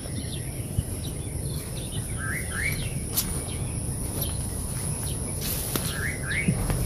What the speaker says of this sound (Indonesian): Ini burung kopi-kopi, sarangnya susah.